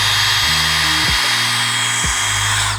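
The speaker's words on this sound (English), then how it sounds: "And you're gonna drill into all of your marks about 1/2 inch." A power drill boring pilot holes into a base, its motor whining loudly and close up, revving and shifting pitch in a few steps as it bites and eases off, with no talk.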